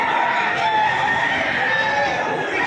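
Roosters crow loudly and chickens cluck among many fowl at a chicken sale, with crowd chatter and voices underneath the birds.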